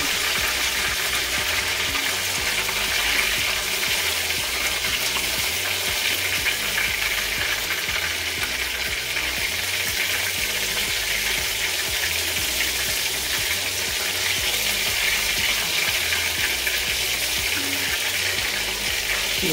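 Bombay duck fritters frying in hot oil, a loud steady crackling sizzle that carries on unbroken with no talk.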